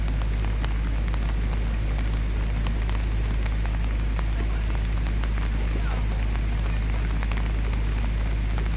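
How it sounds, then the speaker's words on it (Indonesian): Steady rain falls in Garoga, Tapanuli Selatan, a dense, even patter on surfaces that continues without a break, with a low constant rumble beneath. "Cuaca tidak mendukung, hujan kembali terjadi di daerah Tapanuli Selatan,"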